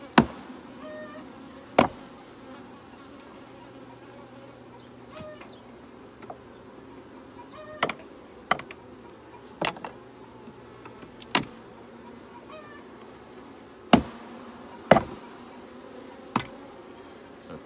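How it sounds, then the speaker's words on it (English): Honeybees buzzing around an open top bar hive during a midsummer inspection, a steady low hum broken by a dozen sharp knocks as bees are struck off the wooden bars, irregularly spaced and close. "I'm gonna knock these bees off so that I can take this out and put blank bars in."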